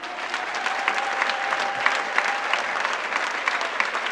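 A church congregation at a Sunday convention gathering in Belgium claps steadily and loudly, a dense, continuous wash of applause filling the hall without a break.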